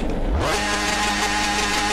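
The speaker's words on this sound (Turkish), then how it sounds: "Frenle gazı aynı anda basıyorum." A vehicle engine in a video game revs up sharply while the brake and throttle are held together, the pitch rising quickly and then settling into a loud, sustained, buzzing drone.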